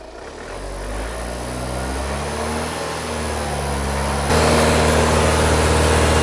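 An Audi A4 diesel engine holds at about 2,500 RPM with a steady drone, growing slightly louder partway through, close and alone without voices.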